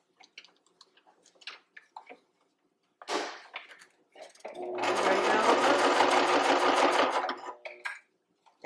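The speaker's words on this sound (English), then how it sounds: "And you're gonna sew all the way around till you get to the other side." A sewing machine stitches a cloth diaper, running in a fast, rapid rhythmic burst of about three seconds after some softer handling clicks and rustles, near and clear.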